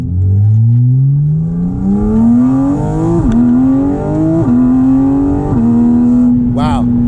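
A Porsche Cayman GT4 RS engine revs hard and rises in pitch through several quick paddle-shifted gear changes, each shift marked by a sharp dip, loud and close inside the car, with a voice speaking briefly.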